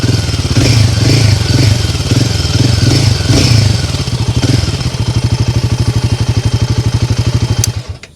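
A new Himalayan motorcycle engine turns over and settles into a loud, steady, thumping idle up close, rhythmic pulses continuing until it cuts off at the end.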